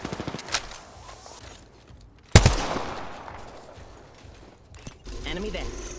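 Gunfire in the Apex Legends video game comes as a sharp loud blast followed by a decaying rumble, with a scattering of quieter shots and rattling bursts around it and game voices talking over the action.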